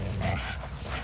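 Dogs at play give short yips, whimpers and muffled woofs in a brief, busy burst of close, overlapping canine noise.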